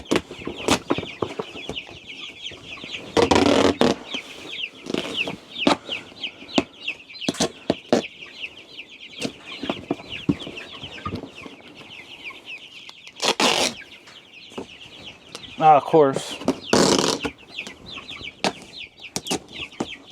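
Chickens cluck and squawk around a coop at close range, with brief bursts of flapping wings and a few loud commotions, while someone speaks a couple of words between them.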